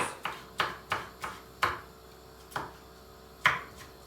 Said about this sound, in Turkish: Daha sonra kapri biberimi şöyle yapıyorum. Hepsini küp küp doğruyorum.